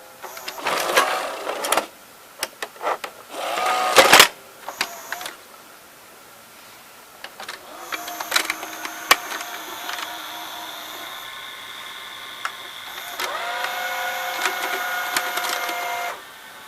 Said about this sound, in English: Fast forward. Yeah, you're gonna hear the motor squealing.